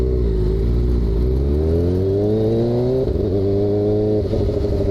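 Kawasaki ZX4RR motorcycle engine revving close and loud, pitch climbing steadily, dropping sharply once, then rising again, with no voices.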